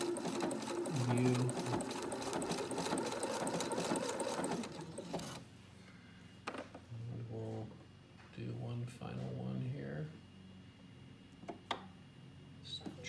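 A Husqvarna Viking Quilt Designer I sewing machine runs a steady rapid stitch for about five seconds, then stops and restarts in shorter bursts with pauses between them, close by and fairly loud.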